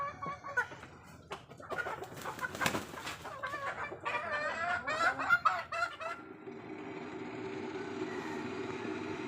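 Domestic ducks and chickens being fed: busy clucking and nasal honking calls, near and overlapping, fading into a quieter steady background after several seconds.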